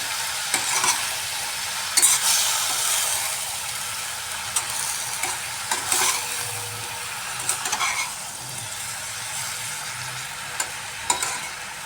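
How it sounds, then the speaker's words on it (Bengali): Chopped bottle gourd being stirred with spice mix and salt in a hot pan, a continuous sizzle broken by frequent close scraping and clattering strokes of the spoon. "এবার মশলাটাকে আমি ভালো করে মিশিয়ে নিচ্ছি লাউয়ের সাথে এইভাবে"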